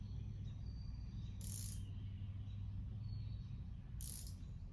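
A ratchet's back drag clicks on its 1/4 inch anvil side, a soft, fast, faint mechanical ticking heard alone in a quiet room, with two brief brighter scrapes.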